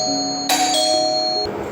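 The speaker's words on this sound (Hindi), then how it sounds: "कई बार डोरबेल बजाने के बाद भी" A doorbell chimes at the front door of a house, with a few clear bell tones ringing out and sustaining.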